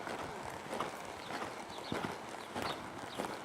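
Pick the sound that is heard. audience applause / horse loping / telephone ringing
horse loping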